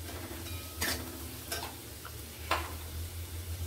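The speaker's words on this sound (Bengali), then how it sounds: "বিট এবং গাজর দুটোকেই একসঙ্গে তেলে দিয়ে একটু নেড়ে নেব" Beetroot and carrot are stirred together in hot oil, with a soft background sizzle and three distinct clicks and scrapes of a utensil against the pan, fairly quiet overall.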